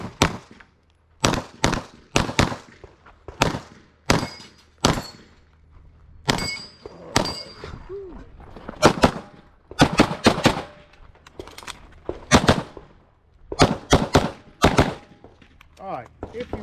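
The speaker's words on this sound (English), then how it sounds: "On to the shooting." A Kimber 2K11 pistol fires at a USPSA match: sharp gunshots come in quick strings and doubles with short gaps between, some close and loud, some from farther off, while faint speech drifts in the background.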